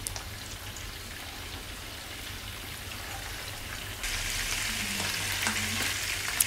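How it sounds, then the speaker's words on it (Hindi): Garlic paste frying in half a cup of hot oil for a dhaba-style moong dal, a dense, even sizzle that grows louder partway through, with a few light clinks of a spoon near the end. "1 टीस्पून गार्लिक पेस्ट ऐड करेंगे, थोड़ी देर के लिए फ्राई करेंगे गार्लिक पेस्ट को"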